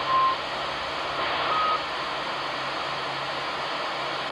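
Two short electronic CB radio roger beeps, one at the start and another a moment later, over a steady hiss of radio static.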